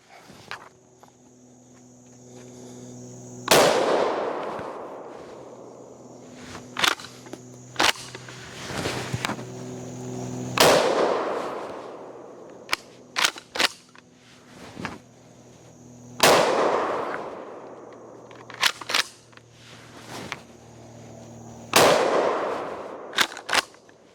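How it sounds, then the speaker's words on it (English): A Winchester SXP Marine Defender pump shotgun firing number 3 buckshot at a target about 10 yards away, five loud booming shots spaced several seconds apart, each followed by the clacking of the pump action. "So that's 5 rounds of number 3 buckshot, 20 pellets"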